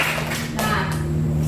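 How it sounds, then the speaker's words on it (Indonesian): A classroom group applauds together, a dense, continuous patter of many hands clapping at close range, with no voices over it. "Tepuk tangan lagi buat kita semuanya."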